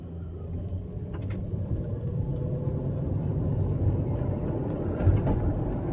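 A 1993 Mercedes 500E pulls away in second gear, a steady low engine rumble heard from inside the car that builds slightly, with a faint clunk near the end.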